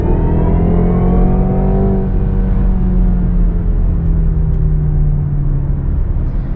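A 2024 BMW 330e xDrive plug-in hybrid accelerates hard in sport mode, heard from inside with a loud, steady engine drone and whine that climbs in pitch and then settles as the car gathers speed.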